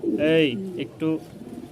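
Fancy pigeons at a bird market in Mirpur, Dhaka, give two close, soft coos with a short pause between them, while faint background sound continues.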